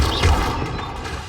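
An Incendio fire spell cast in Hogwarts Legacy gives a short, loud, low rumbling whoosh that fades away within about a second.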